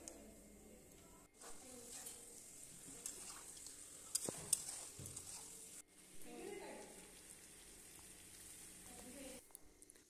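Mutton being fried and stirred in a pan for kosha, a soft, quiet sizzle with intermittent scraping and clinks of stirring, broken by short gaps and a sharp tap midway.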